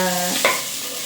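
Ash gourd frying with onions in a pan, a close sizzle with one quick stirring scrape partway through, short and steady.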